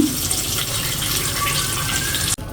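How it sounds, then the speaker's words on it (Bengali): Eggplant pieces frying in hot oil, a loud dense hiss that runs steadily for a couple of seconds with a faint whistling tone partway through, then cuts off briefly near the end. "তো তেলটা গরম হয়ে গেছে, এখন বেগুনগুলো দিয়ে দিব"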